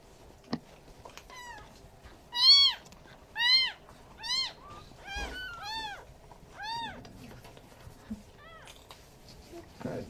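A cat meows repeatedly at a veterinary clinic, about eight clear, rising-falling cries in an uneven rhythm, close and fairly loud, with faint room noise and a few knocks between them.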